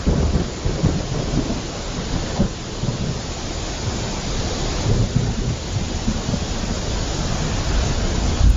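Heavy rain pours outside at a market in a loud, steady, close hiss of drops on surfaces that continues without a break and without voices.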